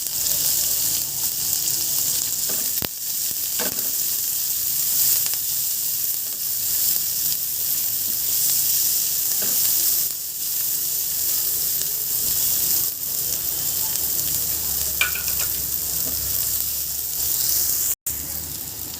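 Onions and green chillies sizzle steadily in hot oil with already-fried garlic, a continuous loud frying hiss lasting throughout with a few faint scrapes and no talking.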